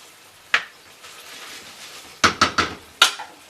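Mince and tomato paste being stirred in a pan, with a handful of sharp utensil clacks against the pan, one isolated knock followed by a quick cluster of three and two more, over a quiet low background.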